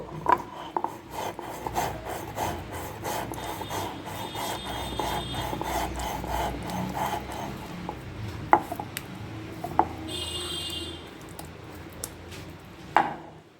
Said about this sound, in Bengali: নুনটাও একটু বেটে নেব।